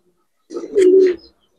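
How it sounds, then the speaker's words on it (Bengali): A single Kaldom pigeon gives one short, close, clear coo, a low throaty rolling call lasting under a second, alone against silence. "দর্শক কালদম একটা পেয়ার দেখো, আজকের দিনের অন্যতম সেরা কবুতর বলা যায়"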